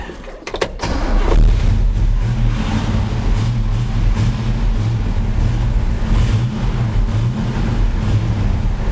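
A 1968 Chevrolet Camaro RS SS 396 with a 325 hp V8 and four-speed, starting with a brief crank, then settling into a loud, steady, rumbling idle with light revs, close by and alone.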